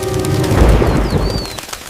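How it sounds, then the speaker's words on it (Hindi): Heavy cartoon rain pours as a dense, steady hiss for a couple of seconds, with a brief chirping whistle sliding over it near the end. "लगता है एक और तेज बारिश आने वाली है।"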